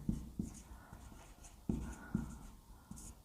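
A pen or chalk writes on a surface at close range, with scratchy strokes and sharp taps in an irregular rhythm of short bursts.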